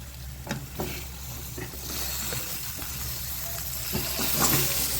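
Dried koduva fish is sautéed in a pan, a soft continuous sizzle broken by several clear scrapes and taps of a stirring spoon, growing slightly louder toward the end.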